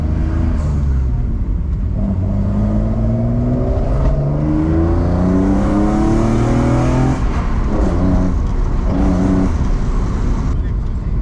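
A BMW E36 325i engine with catalytic converter removed and M3 intake revs and rumbles loudly throughout, its pitch climbing and falling in repeated surges, with a person talking over it.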